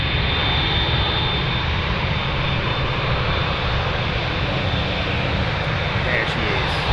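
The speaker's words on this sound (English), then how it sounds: "a bouncy landing here going on" Jet airliner touching down hard on runway 25R at a freezing Frankfurt Airport, a steady loud roar of engines and rushing air that fills the whole span without letting up.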